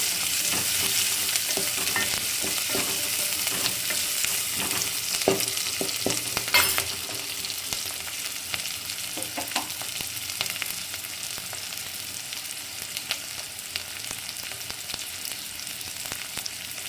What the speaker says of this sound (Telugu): ఆనియన్స్ కొద్దిగా గోల్డెన్ కలర్లోకి వచ్చేంత వరకు కుక్ చేసుకోవాలి